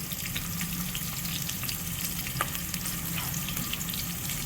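Onions fry in a pan for badnekai palya, a loud, steady, close sizzle that continues evenly throughout with faint crackles and stirring scrapes.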